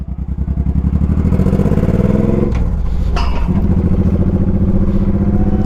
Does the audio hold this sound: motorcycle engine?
yes